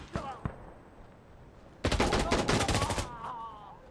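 A close, loud burst of automatic gunfire from the video game Insurgency Sandstorm, with rapid shots lasting about a second, and brief voices heard before and after it.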